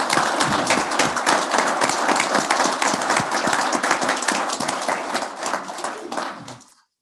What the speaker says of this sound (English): Let's give Hazen a round of applause